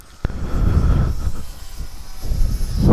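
Model electric glider planes fly at an F5J world championship in Trnava, giving a steady whooshing drone with a sharp click near the start and rising motor noise at the end, loud and close.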